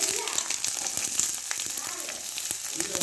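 Chopped onions sauté in a pan for Indian poori masala, a steady, close frying sizzle with soft crackles running throughout, and a voice may murmur faintly underneath.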